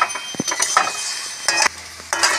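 Masala for vegetarian paneer dalna scrapes and stirs in a hot pan, with a spoon clinking against the metal in bursts over a steady sizzle of frying spices, close and fairly loud.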